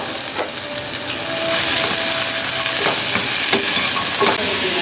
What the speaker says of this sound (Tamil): வெண்டைக்காய் வந்து லோ டு மீடியம் ஃப்ளேம்லேயே நல்லா வதங்கட்டும்